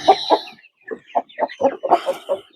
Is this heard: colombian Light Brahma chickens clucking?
yes